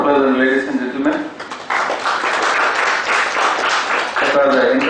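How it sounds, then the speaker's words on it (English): Audience applause closes a mergers and acquisitions talk, a dense burst of clapping lasting several seconds, with a voice speaking before it and again as it fades. "A round of applause, ladies and gentlemen."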